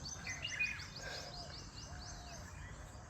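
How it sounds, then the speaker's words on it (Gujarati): Sparrows chirp in a garden, quick high twittering calls repeating in short bursts against a soft outdoor background, fairly faint and at a middle distance. "જે ચકલા બોલે છે."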